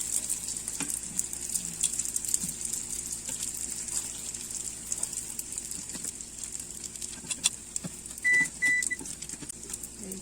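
Lumpia egg rolls frying in oil, only the outer wrapper browning since the filling is already cooked, giving a steady, even sizzle and bubbling hiss throughout with a few faint clinks, no talking.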